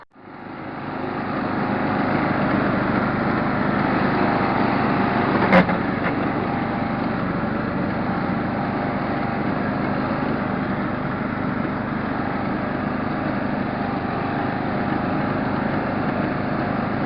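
A 1970s Simplicity Regent lawn mower cutting grass outdoors, its engine starting up and then holding a steady, loud drone close by, with one brief sharp click partway through.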